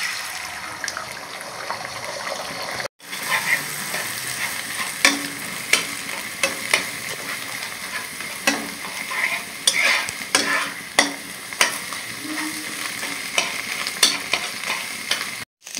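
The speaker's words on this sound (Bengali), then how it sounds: "ডিমটাকে ভেজে নেব।" An egg seasoned with salt and ground pepper frying in a pan for chowmein, a loud continuous sizzle broken by a brief silence and sharp scraping stirs, with no speech.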